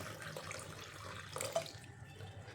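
Moong dal rinsed in water under a tap, a soft continuous stream with light splashing and one brief clink, faint and steady with no talking.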